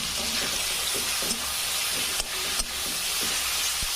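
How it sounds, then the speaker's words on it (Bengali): Spice paste of ginger, garlic, chilli and turmeric powders sautés in a pan for a fish-head muri ghonto, a continuous hissing sizzle broken by a couple of sharp utensil knocks and no voices. "অল্প আছে কিছুক্ষণ ভালোভাবে কষিয়ে নেব"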